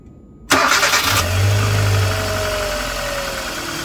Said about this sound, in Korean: 엔진 소리를 좀 들어보는 게 어떻노.